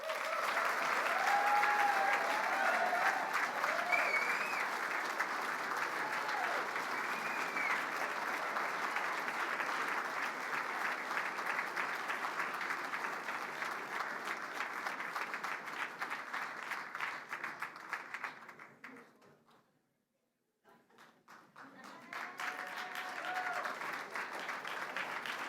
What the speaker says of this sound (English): Let's have another round of applause for Laura Hebert.